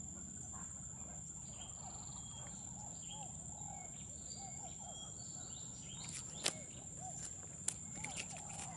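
Birds call faintly from mangrove silvofishery ponds lined with Rhizophora apiculata trees, scattered chirps over a steady hum of insects, with a few sharp, brief clicks near the end.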